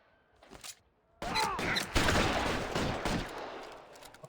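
Gunfire in a bank shootout in the video game L.A. Noire: a faint early pop, then a loud burst of rapid overlapping shots and reverberant blasts that trail off over a couple of seconds.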